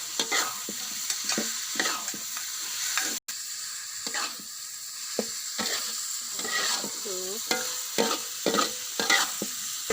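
Shrimp, leek and petai beans are stir-fried together, with a continuous close sizzle broken by repeated spatula scrapes and clatters against the pan at an uneven rhythm, no voices.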